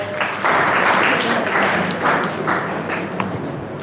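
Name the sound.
audience applause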